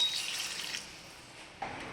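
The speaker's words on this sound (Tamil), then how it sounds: "இந்த ஸ்டேஜில் ஒரு அரை டம்ளர் தண்ணி சேர்த்து நல்லா வதக்கி விடுங்க." Half a tumbler of water is poured into an onion-tomato masala for a pomfret fish curry, a soft, brief splashing hiss that fades within a second, with no talking.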